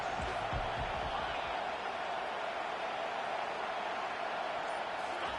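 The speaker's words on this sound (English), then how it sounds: "Here comes this home crowd as the defense tries to get off the field on 3rd down" A home stadium crowd in College Football 25 roars steadily on a third-down defensive stand, a dense, even wall of cheering noise that holds throughout with no break.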